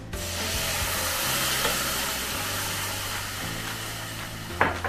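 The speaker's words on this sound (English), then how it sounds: "I'm going to add in my water. Now be careful when you do that, it's going to splatter and sizzle" Water poured into a hot pan for cumin jeera rice sizzles and splatters in a steady, close hiss, ending with a sharper spitting burst near the end.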